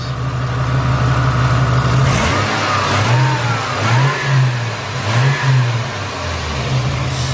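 A car engine idles steadily, then is revved in three quick blips that rise and fall in pitch before settling back to a smooth idle, close and loud with no talking.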